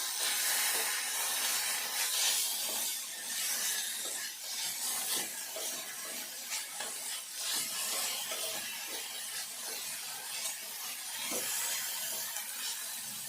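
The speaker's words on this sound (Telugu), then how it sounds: "ఈ సొరకాయ పొట్టు వేసుకోవాలి. దీన్ని వేయించుకోవాలి." Bottle gourd peel frying in oil in a pan gives a steady, close hiss and crackle with soft scraping, running unbroken with no talk.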